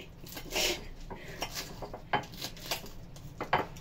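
Leftover food is cut on a plate with a knife, with repeated light scraping and clinking strokes of metal on crockery at a close, quiet level.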